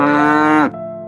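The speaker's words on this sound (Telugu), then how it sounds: "ఇది ఆవు." A single cow gives one loud, close moo, held steady for most of a second before it drops off sharply into a brief, quieter tail.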